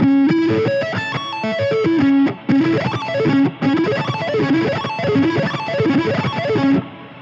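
A distorted electric guitar sweeps up and down a wide two-octave, five-string arpeggio in rolling, evenly paced runs, repeated several times without pause.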